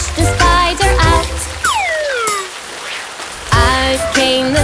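Rain falls as a hissing, spattering wash in a children's nursery song about a spider, heard between sung phrases with sliding cartoon tones over light musical backing.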